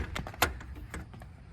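Exterior door of a new tandem-axle Direct Connect Cargo trailer slides open with a quick run of metallic clicks and clacks, one sharper latch pop in the middle, at close range.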